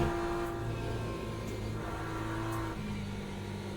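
Race car engine in Le Mans Ultimate at Circuit de la Sarthe, with the throttle feathered so the steady drone eases and swells. It shifts pitch near the end and stays loud and close throughout.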